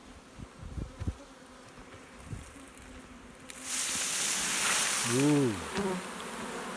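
A honeybee swarm being handled and boxed outdoors, a dense buzzing hum that swells loud and close about halfway through, with a person briefly exclaiming over it.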